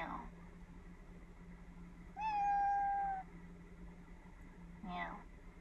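A single drawn-out synthetic meow from a virtual cat on an Amazon Echo smart speaker rings out clearly over faint background hum, with a brief voice sound just after it.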